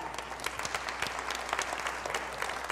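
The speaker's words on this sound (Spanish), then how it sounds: "Un aplauso para él, por favor." An audience applauds at a dramatized archival reenactment in Toluca, a steady wash of many hands clapping at moderate distance, even and unbroken for a few seconds.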